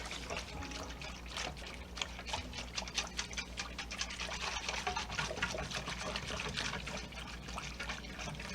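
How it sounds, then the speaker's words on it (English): Cornstarch is whisked into cold liquid in a bowl to make gravy, producing quick rhythmic clicks and soft sloshing that stay fairly quiet and continuous with no talking. "Let's get my whisk here. Let's get this whisked up."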